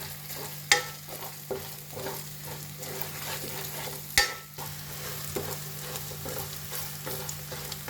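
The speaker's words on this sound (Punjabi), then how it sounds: "ਹੁਣ ਆਪਾਂ ਇਹਨਾਂ ਨੂੰ 2-3 ਮਿੰਟ ਨਾ ਭੁੰਨਾਂਗੇ" Crushed moong badi roasting in a pan, giving a steady close sizzle with continuous stirring scrapes and two louder knocks of the spoon, with no voices.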